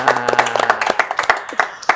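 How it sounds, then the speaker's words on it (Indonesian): Scattered hand claps from a studio audience on an Indonesian talk show, a brief uneven patter of individual sharp claps with a voice talking underneath. "Tepuk tangan dulu buat semuanya"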